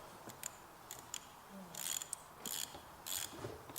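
A socket wrench with a 10mm socket ratchets a negative battery terminal tight on a 2010 Nissan Versa, giving a few faint scattered clicks and then three short, quick bursts of ratchet clicking close by.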